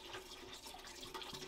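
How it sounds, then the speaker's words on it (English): Hpnotiq liqueur pours into a bowl of game-day punch, giving a steady liquid gurgle and splash with no pauses, close and fairly quiet. "We're going to pour in our Hpnotiq too."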